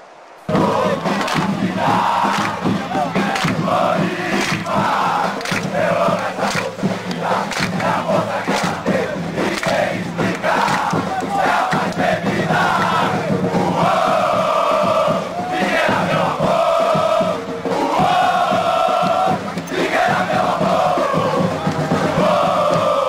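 A stadium crowd in the PES 2010 football game roars and chants continuously, a loud dense wall of voices with swelling surges, alone without commentary.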